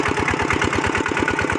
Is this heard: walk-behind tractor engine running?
yes